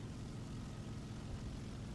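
Steady drone of a propeller aircraft engine in the War Thunder air combat game, a continuous low hum held at an even level with no speech over it.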